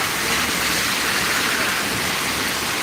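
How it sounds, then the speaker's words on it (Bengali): Heavy rain pours in a dense, steady hiss, loud and unbroken throughout. "এত বৃষ্টি হচ্ছে কি বলবো"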